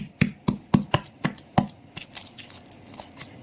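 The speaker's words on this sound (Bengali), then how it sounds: "কাঁচা লঙ্কা দিয়ে আমি ছেঁচবো" Green chillies pounded for mashed wood apple: a run of five or six sharp, evenly spaced thuds, fairly close, followed by softer, quicker crushing taps, with no talking.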